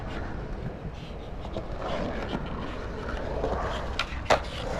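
Skateboard wheels rumbling while rolling in over the coping of a mini ramp, a steady rolling roar with a sharp knock near the end, outdoors with light wind noise.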